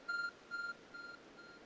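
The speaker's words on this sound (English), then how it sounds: "There's a glowing, beeping object over there." A glowing object in Pokémon Legends: Arceus gives off a soft, pure electronic beep that repeats four times at an even pace, each tone fainter than the last, quiet and with no talking.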